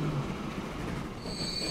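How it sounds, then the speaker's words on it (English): A train rumbles past in the video game Transport Fever, a steady rolling rail noise with a faint high wheel squeal near the end, brief and with no talking. "Here comes the train"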